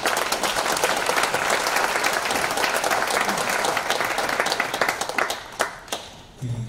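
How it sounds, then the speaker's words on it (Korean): Applause from a church audience welcoming a guest speaker, an elderly pastor giving a special lecture at a memorial event: dense, sustained clapping from a sizeable crowd that fades out near the end. "박수로 우리 환영하겠습니다"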